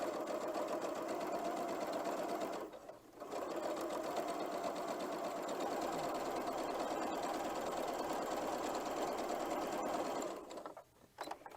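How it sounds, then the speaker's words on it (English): A sewing machine runs steadily along a quarter-inch seam in scrappy quilt piecing, a close, rapid mechanical whirr that halts briefly twice. "So I'm simply just sewing down the seam here at a 1/4 inch seam allowance."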